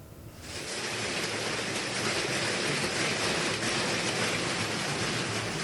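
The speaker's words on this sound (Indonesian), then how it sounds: "hujan es sebesar kerikil berjatuhan dari langit" Hail pelts down on the slopes of Mount Merapi, starting abruptly and then holding as a dense, loud, continuous roar of hailstones striking the ground.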